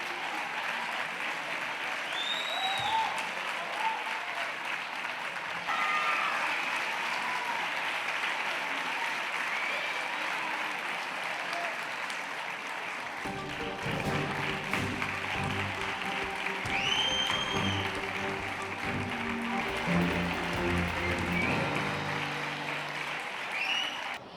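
An audience claps for a roller hockey club at a 2014 sports awards ceremony, sustained and even applause running the whole time, with music entering underneath partway through.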